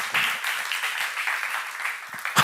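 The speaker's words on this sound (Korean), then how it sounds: "박수를 하나 더 해주세요." An audience in a church seminar applauds with dense, steady hand clapping at moderate volume, the clapping picking up briefly near the end.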